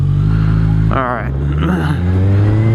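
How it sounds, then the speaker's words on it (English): A motorcycle in second gear is throttled out while practising a wheelie. The close engine drones steadily, then its pitch briefly rises and falls around the one-second mark before settling back into a loud, even roar. "I'm in second gear. I'm gonna throttle out, clutch up, and just try to keep it low and just ride out the RPM range."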